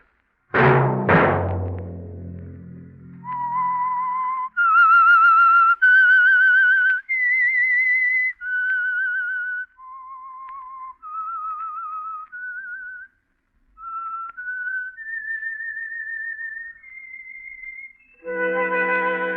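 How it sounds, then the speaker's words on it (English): A human whistles the theme signal of The Whistler radio program, a sustained melodic tune of held notes with short gaps after a couple of sharp opening footsteps, clear and alone. "Let that whistle be your signal for the Signal Oil program, The Whistler"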